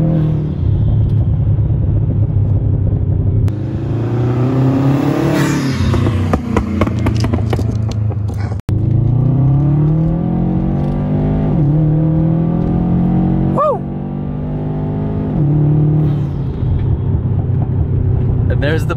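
Car exhaust popping and crackling after a pop-tune remap, sharp bangs scattered over loud engine revs and deceleration, recorded close from inside the moving car with wind noise.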